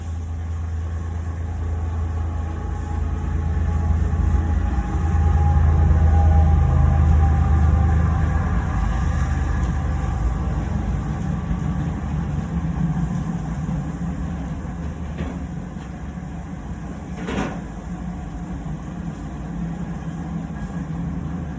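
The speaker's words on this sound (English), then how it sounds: "Sorry, a train's coming, so you're not going to be able to hear a word that I'm saying." A passing train heard through open windows makes a low, steady rumble that builds to a peak and slowly fades, moderately loud indoors with no talking over it.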